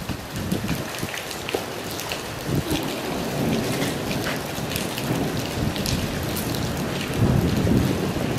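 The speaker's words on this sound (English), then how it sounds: "The boom! Thunder!" A thunderstorm brings heavy rain that hisses steadily throughout, and low thunder rumbles swell beneath it, growing louder near the end, with no talking.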